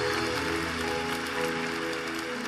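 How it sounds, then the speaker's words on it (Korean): A church congregation applauds during a youth worship service and evangelism gathering, a dense, steady wash of many hands clapping together at moderate loudness with no speech over it. "다시 한번 격려와 축복의 박수를 보내주시겠습니다"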